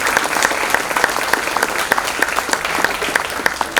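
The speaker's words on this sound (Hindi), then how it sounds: "आप लोग जोर से ताली बजाएं" An audience at a Hindi Divas event claps loudly and steadily, dense applause filling the hall for the whole stretch with no break.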